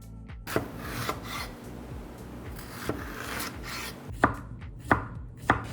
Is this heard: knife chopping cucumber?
yes